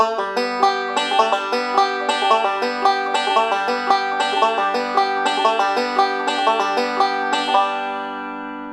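A plucked banjo plays a quick, rhythmic slide, hammer-on and pull-off exercise with bright picked attacks, solo and close, ringing out at the end.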